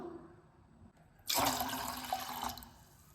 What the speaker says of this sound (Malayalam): ആ അതേ സെയിം ഗ്ലാസ്സിൽ തന്നെ രണ്ട് ഗ്ലാസ് വെള്ളം ഒഴിച്ചു വെള്ളം അതിലേക്ക് ഒഴിച്ചു കൊടുക്കാം